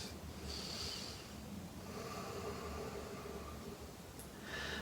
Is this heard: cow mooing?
no